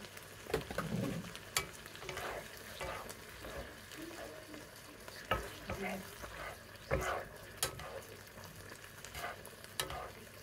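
Tofu and minced beef sautéing in a pan for a Filipino tokwa't giniling, a steady sizzle broken by repeated scraping stirs and clatter, close and moderately loud, with no talk.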